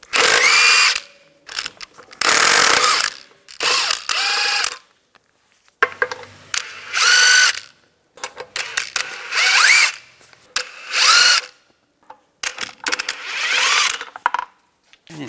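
Power impact tool with a 22mm socket removing wheel lug nuts on a 2010-2016 Cadillac SRX, about eight loud whirring bursts a second or so each, separated by short silences.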